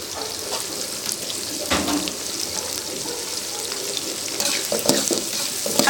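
Green chillies sautéing in hot oil for Chettinad mutton liver fry, a continuous sizzle broken by scraping stirs and a few louder clatters toward the end, up close with no talking.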